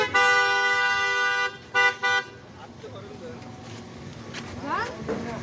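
A vehicle horn honks in a long sustained blast followed by two short toots, loud and close on a street during Eid with a sacrificial cow being led along, then traffic noise and voices talking continue.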